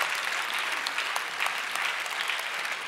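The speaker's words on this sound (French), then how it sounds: "On applaudit le président de Tutti," An audience at a school arts concert in France claps steadily, a brief burst of dense, even applause with no voices over it.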